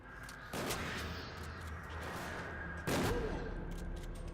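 Two sharp gunshots in a Silent Hill game, each a loud close crack with ringing tail, spaced a couple of seconds apart over low ambient background.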